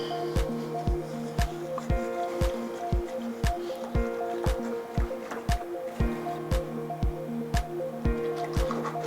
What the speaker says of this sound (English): And we're gonna stir it.